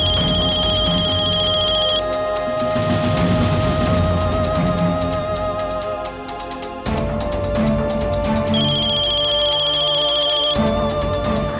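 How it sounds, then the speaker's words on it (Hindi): A phone ringtone melody plays loudly and repeatedly, with a high electronic tone looping through the tune. "फोन उठाओ प्लीज।"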